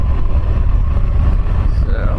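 A 2021 Harley-Davidson Fat Bob 114 motorcycle on the move, its steady, deep engine rumble churning close up under heavy wind buffeting, with no break for the whole stretch.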